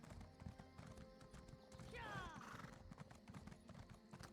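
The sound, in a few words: horse galloping and neighing, mount in The Elder Scrolls Online video game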